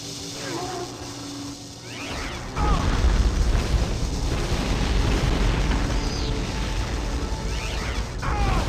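Gunfire at the assembly plant computer in Turok 2 crashes out as a sudden loud, sustained roar of blasts and explosions from about 2.5 seconds, with talk beneath.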